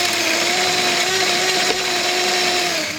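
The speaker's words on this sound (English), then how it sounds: "So we have our chicken plucker drill." A drill-driven chicken plucker spins at a steady high whine, with a constant motor tone and soft flapping of feathers being stripped from a chicken, loud and continuous.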